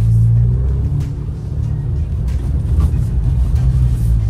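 An Alfa Romeo Giulia Q4 drives on snow, its engine a steady, loud, close low rumble throughout with a slight swell near the end; no distinct skid sound stands out.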